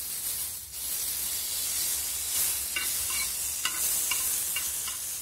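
Butter sizzles and hisses steadily on a hot dosa pan, a close, bright frying crackle with a few faint clinks from stirring and no talking.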